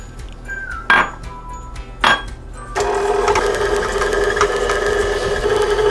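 A stand mixer creams butter and sugar for chewy chocolate chip cookies, first two loud knocks and clatters as ingredients go in, then a steady, dense whirring drone with a scraping rattle running to the end.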